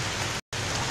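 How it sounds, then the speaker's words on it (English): Heavy rain pours down in a sudden downpour, a dense, loud, steady hiss of drops on surfaces, broken by a split-second gap of silence midway. "It's raining heavily, suddenly started raining heavily."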